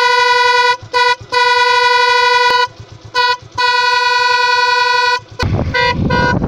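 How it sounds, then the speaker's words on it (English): Custom dual horns fitted to a Suzuki Gixxer motorbike give several loud, close honks of varying length, with short gaps between them, followed by a burst of broadband noise at the end. "Sound of custom dual horns."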